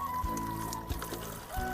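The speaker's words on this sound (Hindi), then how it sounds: "इस ठंडे हुए पानी को इस तरह से देखिए इस बोतल में भर लेना है" Cooled water being poured into a bottle while preparing a spray for a tulsi plant; a continuous trickling pour with a few soft knocks, fairly quiet throughout.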